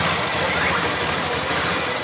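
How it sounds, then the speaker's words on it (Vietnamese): Honda Vision scooter engine, with a crankshaft position sensor fault code 52, idling after starting; a loud, steady mechanical drone with even vibration fills the whole stretch. "Rồi bây giờ em nổ máy."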